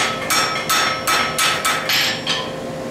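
A blacksmith hammers hot steel on an anvil, forging a taper: six sharp, ringing strikes in an even rhythm, loud and close, with no talking.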